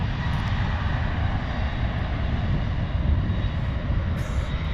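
An airliner departs from San Francisco International Airport (SFO) on a short runway, with a steady, broad engine roar that holds at a constant loudness throughout and no voices.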